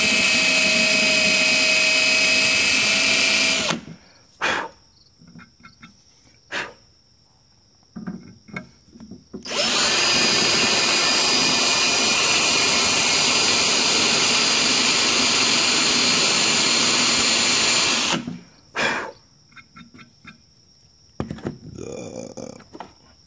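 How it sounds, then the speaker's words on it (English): Grinding tool carving into rock, run in two long loud high-pitched whining bursts that stop abruptly, separated by quieter gaps with faint scraping and a steady thin tone. "angle it down so it'll start grinding right away"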